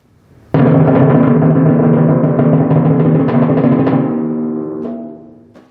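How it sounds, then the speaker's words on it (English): A timpani roll played too fast, with a sudden loud attack, sustaining as a steady buzzing wash for several seconds before gradually fading. "So a bad roll speed that's too fast would sound like this."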